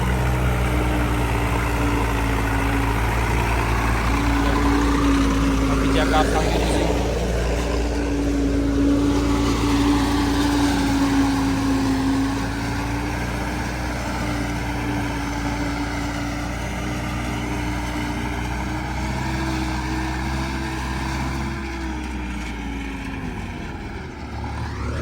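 A Sonalika tractor engine powers a maize machine, giving a loud, steady, heavy drone close by that holds for the whole stretch and eases slightly near the end. A faint voice is heard briefly.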